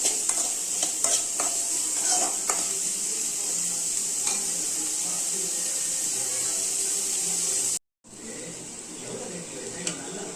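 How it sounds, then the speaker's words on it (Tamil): Onions sauté in a hot pan with a constant hiss of frying, occasional clicks of a stirring spoon, and a brief cutout of sound near the end before the sizzle resumes. "வெங்காயம் வந்து நல்லா வதக்கி எடுத்துக்கலாம்"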